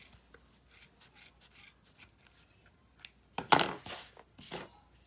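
Scissors snip off the leftover crochet yarn for a colorful tassel on a crochet bag, giving a short run of soft, dry cuts and rasps, then a louder, denser cluster of close snips near the end, with no talking.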